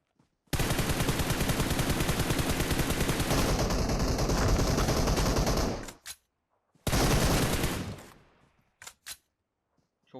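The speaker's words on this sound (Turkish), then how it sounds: "Silah seslerini duyuyorsunuz" Sustained rapid gunfire in the video game PUBG Mobile rattles loudly for several seconds, pauses, then another burst follows, ending with a few isolated shots.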